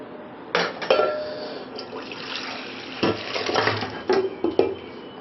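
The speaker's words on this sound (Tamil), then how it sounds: "நம்ம இந்த குக்கரில் இருந்த வேக வச்ச கறியை வேறு ஒரு பாத்திரத்துக்கு மாற்றிட்டேன்" Cooked mutton is moved from a pressure cooker into another vessel, with close wet scraping, sloshing and metal clinks from a ladle against pots coming in uneven bursts.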